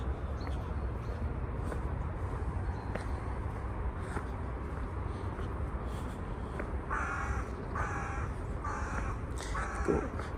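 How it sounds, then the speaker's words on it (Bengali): Crows caw repeatedly at a distance in a Moscow park, harsh calls in short bursts over a steady outdoor background hum. "উপরে কাক ডাকতেছে"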